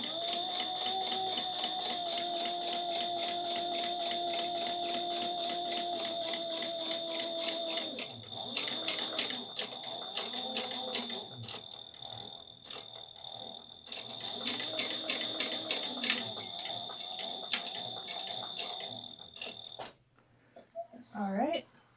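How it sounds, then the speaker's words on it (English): A sewing machine stitches the side seam of a yarn project bag, running in rapid, even bursts with short pauses between runs while a voice talks over it. "we're going to sew down the side according to the seam allowance."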